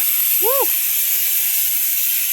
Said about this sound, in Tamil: இந்த கறி அடுப்பில் இப்போ நான் குக்கர் வச்சுருக்கேன். பருப்பு சவுண்டு வரப்போகிறது பாருங்க.